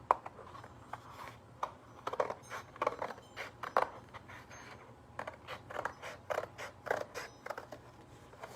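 Scissors snip through paper while cutting out a shape along a drawn outline, a quick irregular series of crisp close cuts with small pauses and a faint steady hum beneath.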